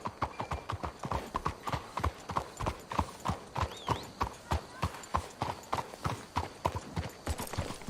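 Steady rhythmic clip-clop of horse hooves in a video game (Red Dead Redemption 2), close and moderately loud, with a brief whinny partway through.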